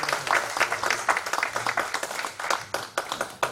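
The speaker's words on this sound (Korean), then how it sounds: "박수로 감사드립니다." An audience at a church forum on the low birth rate claps for the panelists, a steady patter of applause from a moderate-sized crowd in an indoor hall, with no clear talk over it.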